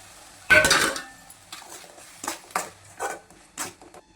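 Tomato paste drops into a pan for tomato rice with a loud metal clank, followed by a spoon stirring and scraping against the pan in several distinct strokes over a soft sizzle.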